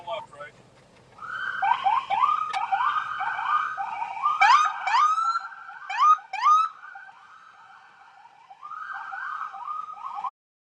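A siren wails in repeated rising and falling sweeps, broken by short pauses and a few quick yelps, moderately close and steady against a quiet background.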